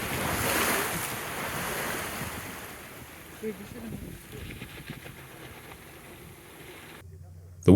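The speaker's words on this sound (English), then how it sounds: "Watch when the larger waves hit the wall." Ocean waves surge against a harbor wall on a small Japanese island, a broad wash of surf and wind buffeting the microphone, with a sharper slap of water around the middle and a sudden loud knock at the very end.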